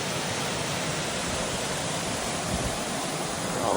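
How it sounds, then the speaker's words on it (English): A forest stream swollen after heavy overnight rain on New Zealand's Te Araroa trail between Puketi Hut and Kerikeri, a steady, even rushing wash of flowing water, close and continuous, with no voices. "we've just been following this stream"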